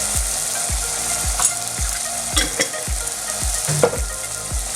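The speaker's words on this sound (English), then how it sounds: "I'm going to give it a good mix again" Chicken and potato curry is stirred in a pan, a spoon scraping through it in a steady rhythm of about ten strokes over a constant sizzling hiss, close and fairly loud with no talk.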